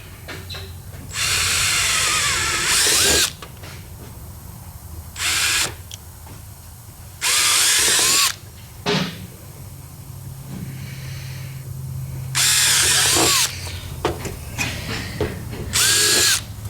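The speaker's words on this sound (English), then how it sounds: "Now we need a 3/16 drill bit." A power drill with a 3/16 bit bores through a row of holes while installing a Rekluse part on a KTM 65SX dirt bike, giving five loud bursts of high whirring, some long and some short, with quiet pauses between them.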